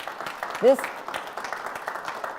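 An audience applauds students at a school board meeting, a steady spread of clapping with a brief raised voice near the start and speech over it.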